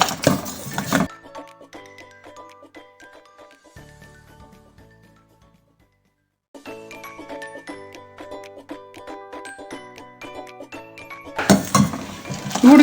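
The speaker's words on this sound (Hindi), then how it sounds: "अच्छे से इसको फेंटना ताकि अदरक और दालचीनी वगैरह का टेस्ट बाहर आ जाए" Karak chai with jaggery, ginger and cinnamon is stirred and whisked in a pot, giving light metallic clinks and scraping taps, loud at the start and end with a quiet gap in the middle.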